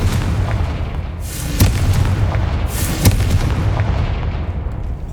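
Confringo spell blasts from the video game Hogwarts Legacy on PS5 sound as loud, booming fiery explosions, with two sharp hits and crackling rushes over a constant rumbling game backdrop.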